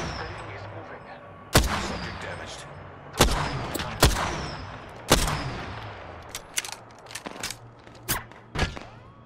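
Gunfire in the Apex Legends battle royale game: a string of sharp, loud shots at irregular intervals, some close and heavy, others lighter and quicker, with a rumbling game background between them.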